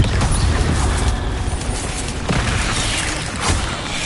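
Spell explosions from the video game Hogwarts Legacy rumble and crash continuously, with loud booms and bursts layered over a constant roar of noise.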